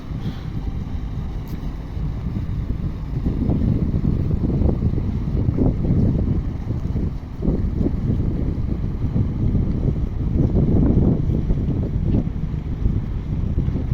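A small motorboat engine rumbles steadily nearby in Gdańsk's Old Town, growing louder in the middle as it passes, with wind buffeting the microphone throughout.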